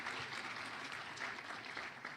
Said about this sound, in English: We give it a round of applause.